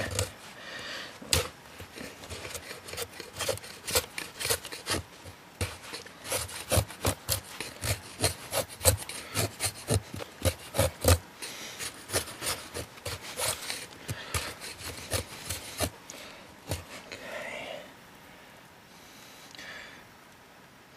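A knife shaves fine curls from a piece of wood at a wilderness survival camp in North Georgia. Quick, close scraping strokes repeat in a steady rhythm, then thin out and soften toward the end.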